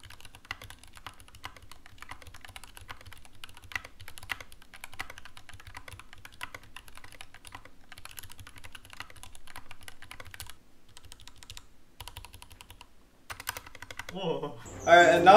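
Mechanical keyboard with lubricated switches being typed on in a steady stream of soft, muffled key clacks for several seconds, fairly quiet and close, ending in a louder burst of noise at the very end.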